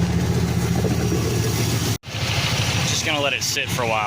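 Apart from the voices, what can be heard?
car engine idling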